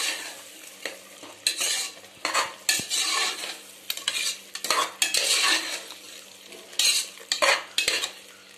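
Moong dal being stirred and sautéed in a pan for tomato rice, with a utensil repeatedly scraping and clinking against the metal over a soft sizzle, in uneven bursts close by and with no talking.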